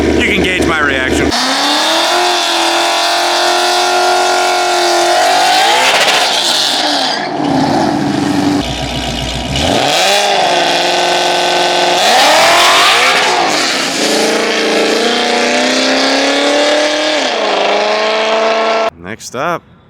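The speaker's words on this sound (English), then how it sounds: "next up, we got a Gen 3 Whipple car" Drag car with a Gen 3 Whipple supercharger and TH400 transmission making a grudge pass, its loud engine roaring and climbing through gears with rising harmonic sweeps, close and continuous, with crowd voices talking underneath.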